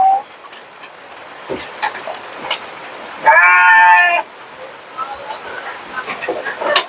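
Goat or sheep bleating once in a village setting by a river, a clear wavering call of about a second standing out over outdoor ambience and nearby talk.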